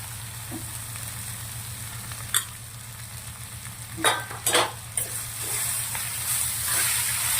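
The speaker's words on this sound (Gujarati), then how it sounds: "મગ પૌવા મકાઈ સરસ મજાને મિક્સ કરી દઈશું" Poha, mung beans and corn are mixed in a pan over a faint steady sizzle, with a few sharp scrapes and knocks of the spoon near the middle, close by and with nobody speaking.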